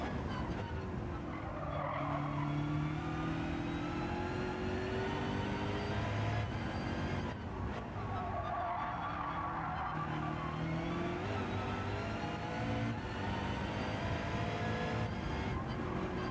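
Race cars in Gran Turismo 7 lobby racing brake hard and corner, tyres squealing over a steady droning engine note that rises and falls throughout, fairly distant and even in level.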